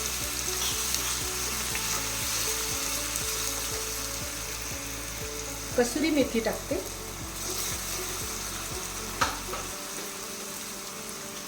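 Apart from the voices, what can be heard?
tempering sizzling: curry leaves, chilli, ginger, garlic, cumin paste frying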